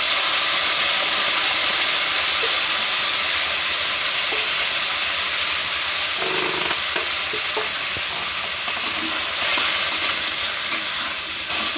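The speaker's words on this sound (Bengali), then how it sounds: "এবার মা চালটা দিয়ে দিল" Rice frying in a pan for khichuri, a steady, close, fairly loud sizzle with scraping stir strokes running throughout, no voices.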